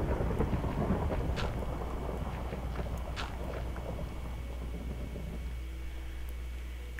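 Rain and thunder in Minecraft: a low, steady rumbling roar with hissing rain beneath it, alone and with no talk, easing slightly toward the end.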